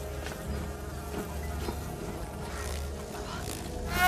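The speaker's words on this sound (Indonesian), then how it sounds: "lebah tersebut adalah lebah dari hasil rekayasa genetika yang sangat berbahaya" A swarm of genetically engineered bees from The Hunger Games film buzzes in a dense, continuous drone, mixed with a film soundtrack and swelling slightly louder at the end.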